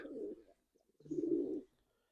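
Two soft, low cooing calls from a pigeon, close by, separated by a brief pause, with quiet in between.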